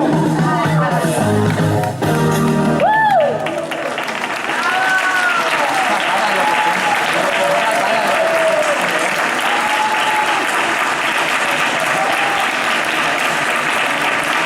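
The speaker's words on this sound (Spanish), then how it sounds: "¿Ve cómo aplauden porque ellos lo han entendido?" A theatre audience applauds loudly and steadily at a street-theatre performance, a dense unbroken clapping that runs the whole stretch while a voice sings or calls out over it in the opening seconds.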